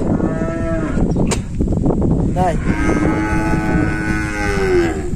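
Sindhi cattle mooing on a farm, loud drawn-out moos close by, one after another with a brief pause between, and a person speaking a single word.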